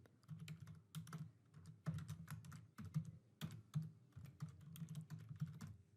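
Rapid keystrokes on a computer keyboard come in short, uneven bursts with brief pauses, close and fairly quiet, entering text into an invoice form, with no talking.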